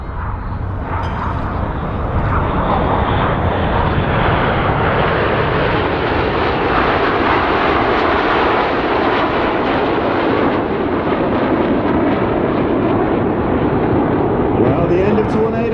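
Red Arrows jets roar continuously through a Tornado formation at an airshow practice, Reds 8 and 9 rolling through smoke, a loud broad sustained rumble for the whole stretch, with the announcer talking over it.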